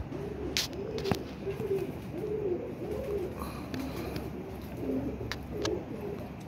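Pigeons coo in a steady, rhythmic series of low throaty calls as a male and female are paired, with a few brief higher chirps and faint background noise and no talking.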